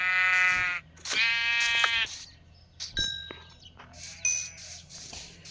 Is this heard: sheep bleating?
yes